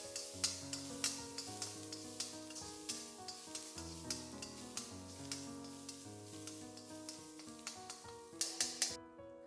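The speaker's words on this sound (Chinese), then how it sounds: "锅留底油，再下入葱姜蒜末，" Minced scallion, ginger and garlic stir-fried in a little oil left in a wok after pan-frying eggplant strips: a steady sizzle with repeated spatula scrapes and taps, heard under prominent background music.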